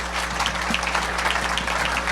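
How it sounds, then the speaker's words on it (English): A conference audience at a manufacturing summit applauds a panel, with steady, dense clapping from many hands filling the room at an even level throughout. "Let's give them a round of applause."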